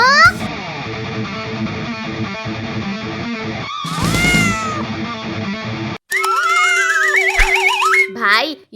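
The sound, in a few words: cat meowing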